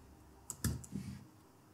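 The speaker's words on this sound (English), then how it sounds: "type in command I if you use a Mac" A couple of quick, faint keyboard clicks, like a short shortcut being pressed on a computer keyboard in a quiet room, lasting under a second, with no voices.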